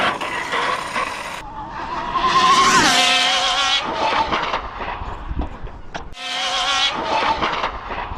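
A high-speed RC car, the kind built to chase 200 mph, runs down a track on a hot day with loud rising and falling motor whine. Bursts of screaming noise are broken by a few sharp cuts.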